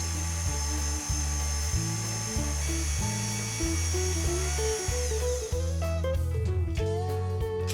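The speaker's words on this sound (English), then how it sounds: "Now mix these ingredients using the paddle attachment on your machine for 2 minutes." A kitchen stand mixer with a paddle attachment churns honey and oatmeal bread ingredients, giving a loud, steady motor whir with a rhythmic pulsing drone that runs throughout.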